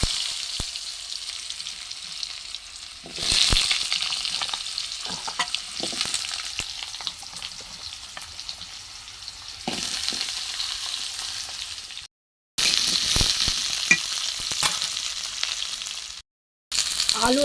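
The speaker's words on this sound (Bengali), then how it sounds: "এই আলু কাটা আছে, আলুগুলো আমি দিয়ে দেবো।" Cut potatoes frying in a pan for a vegetarian potol and soybean curry, steady sizzling that swells louder as they go in, with stirring clatter and two brief silent gaps.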